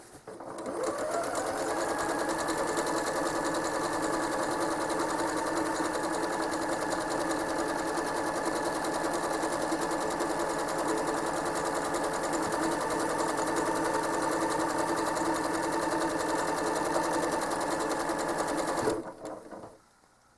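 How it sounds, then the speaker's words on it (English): A home sewing machine stitching a quilt along a stencil line runs as a steady, continuous whir for about eighteen seconds, then stops abruptly. "When I'm stitching along a line, I'm kind of looking at where I'm going,"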